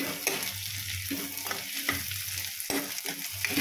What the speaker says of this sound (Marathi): तुम्ही पाहू शकता आपला कांदा शिजण्याची प्रोसेस व्यवस्थित झालेली आहे